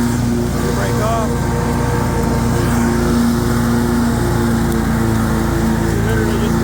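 A commercial-grade 48-inch Snapper Z Rider Yard Cruiser zero-turn riding lawn mower runs with its engine droning steadily and loudly up close, a constant low hum with a faint whine throughout.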